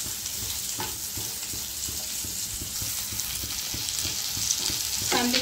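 Onions frying in a pan for butter chicken, cooking until pinkish, give an even, close sizzle broken by soft stirring strokes, with a sharper clatter near the end.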